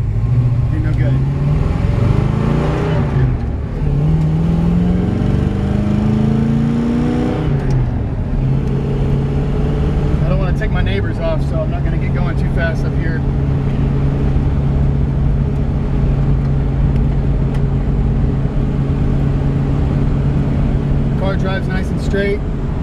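A 1961 Ford Fairlane 500 drives down a road, its engine note climbing through a couple of accelerations before settling into a steady cruising drone, heard close from inside the car with someone talking over it.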